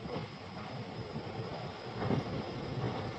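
A freight train runs on a journey from Kolkata toward Mumbai, heard as a steady, moderately faint rumble and rushing noise with a few louder swells, close by and without any talk.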